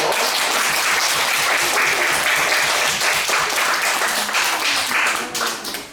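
An audience applauds steadily for several seconds at an elementary school invention presentation event, a dense wash of clapping that holds loud and then begins to taper off at the end.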